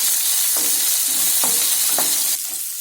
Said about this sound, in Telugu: ఇలా 1 నిమిషం వేగిన తర్వాత మన ఎర్రగడ్డలు కూడా వేసేసుకుందాం.